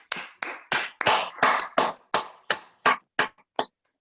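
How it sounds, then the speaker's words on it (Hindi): An audience at a motivational Safe Shop seminar claps in unison, with about eleven sharp, loud, evenly spaced claps and no talking over them. "दिल की गहराइयों से जोरदार ताली होनी चाहिए भगवान के लिए।"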